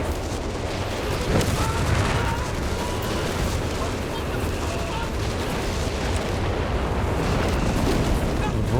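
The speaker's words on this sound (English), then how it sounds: "The rapid artillery I think coming in there as well" Rapid artillery fire in a Company of Heroes 3 multiplayer battle: a dense, continuous wall of rumbling booms and overlapping blasts, loud and unbroken across the whole stretch.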